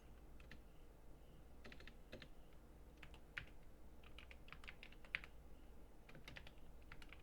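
Computer keyboard under steady quiet typing while a command is entered, soft scattered keystroke clicks over a low background hum, faint and close with no speech.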